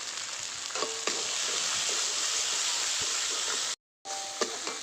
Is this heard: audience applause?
no